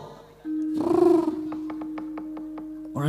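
A voice imitates a cat meowing during a Javanese shadow-puppet performance, giving a drawn-out nasal meow near the start. A steady tone and a row of light rhythmic taps run beneath it, and another short vocal sound comes at the end.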